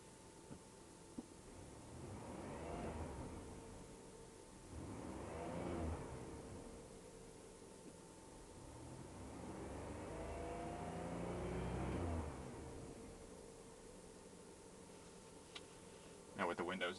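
A 2003 Chevrolet Monte Carlo's engine revs in several swelling bursts, heard from inside the cabin with the windows up, muffled and moderately loud with quiet pauses between pulls.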